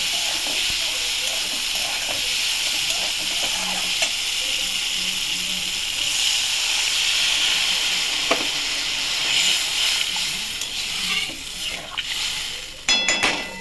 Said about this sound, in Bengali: এবার আমি মধ্যে জল ঢেলে দেবো।